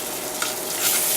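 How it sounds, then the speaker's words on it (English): A spoon stirs chicken fricassee in a pot, giving a soft, close scraping swish with a faint simmering hiss underneath over a brief stretch. "She is stirring. Yes, I'm stirring."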